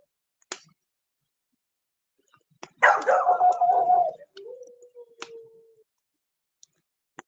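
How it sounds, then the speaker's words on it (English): Dogs barking outdoors at a distance: a few sharp isolated yips, then a burst of several seconds of overlapping barks and howling that trails off into a long faint howl, with quiet gaps between. "my dogs are going off. You hear them out there?"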